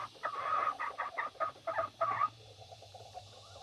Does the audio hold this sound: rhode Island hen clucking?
yes